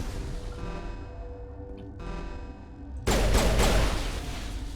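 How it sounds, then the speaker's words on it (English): Enemy gunfire in Mass Effect breaks out as a sudden loud burst of rapid shots over steady background tones, preceded by quieter game ambience. "They're totally shooting at me."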